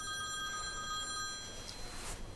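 A telephone rings indoors in a Chinese family drama film, a quiet electronic ring that holds steady for over a second, then fades into faint background noise.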